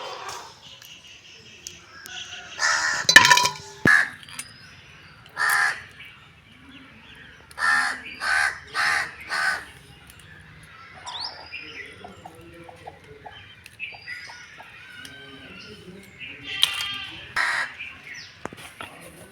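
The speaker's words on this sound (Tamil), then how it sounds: "காக்காக்கு நண்டு வேணும் போல" Crows call in short bursts of harsh caws, some near and some farther off, near a crab catch by a fishing net. Soft insect chirping fills the gaps between calls, and no one speaks.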